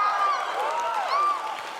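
A crowd at PAX West cheers with overlapping whoops and shouts that rise and fall in a brief, lively burst.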